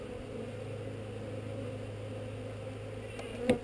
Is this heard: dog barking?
no